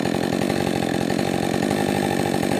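A Husqvarna 562 chainsaw on a rebuilt saw idles steadily up close, its even two-stroke putter holding for a few seconds with no cutting and no voices.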